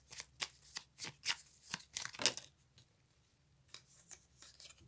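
Tarot cards being shuffled by hand, a run of crisp riffling flicks and slaps, close and fairly loud for a few seconds before fading to softer rustles.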